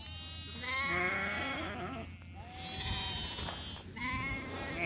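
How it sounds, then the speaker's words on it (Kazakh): Lambs of a sheep flock bleating repeatedly in overlapping, wavering calls, several voices close by and loud throughout, with farmyard ambience beneath. "Мына көк қойдың қозысы олар."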